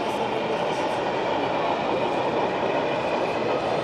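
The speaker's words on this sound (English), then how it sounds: "Train going by behind it." A model train runs past on a layout at a New York State model train fair, giving a steady, continuous rumbling clatter at even loudness throughout with no pauses.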